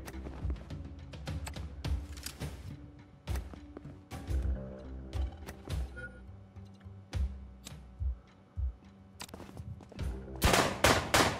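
Rapid gunfire bursts and single shots from the video game John Wick Hex ring out in sharp, clustered volleys across the whole stretch, with a dense, loud flurry near the end and no talking.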